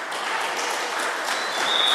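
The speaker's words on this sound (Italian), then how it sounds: "si guadagna l'applauso degli addetti ai lavori presenti qui a San Rocco" Spectators at a professional interregional boxing bout in San Rocco applaud steadily, a continuous wash of clapping that stays even and moderately loud for the whole stretch.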